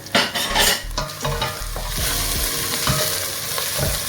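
Cinnamon and cardamom go into a pot of hot oil with onion and garlic, and a close, steady sizzle follows, broken by several clanks as a utensil stirs against the pot.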